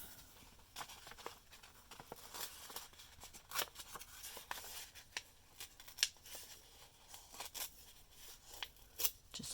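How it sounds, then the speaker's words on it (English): Fabric is torn in a circle for an embroidery piece, giving a quiet, close series of irregular rips and snips with short pauses, heard alone. "I also wanted to see what happens if I try to tear like a circle."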